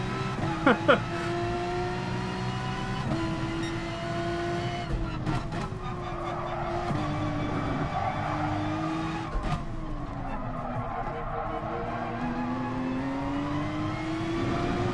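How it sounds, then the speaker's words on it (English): A race car in Gran Turismo Sport drifts with a steady high engine drone, pitch shifting through gear changes and slides, plus occasional tyre squeals, loud and continuous throughout. "the car just wants to fucking drift"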